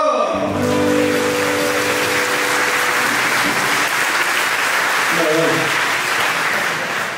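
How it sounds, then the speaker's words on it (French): Loud, sustained applause from a live audience at a French comedy show, a dense steady roar of clapping with a brief voice at the start and a bit of talk partway through. "Allez, commencez déjà à vous applaudir,"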